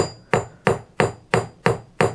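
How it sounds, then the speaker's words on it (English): A hammer strikes pewter at a forge in seven sharp, evenly spaced blows, each a bright close metallic tap with a brief ring, at a steady quick rhythm. "Turn my hammer, keeping the hammer at an angle, just a slight angle, rotating the pewter."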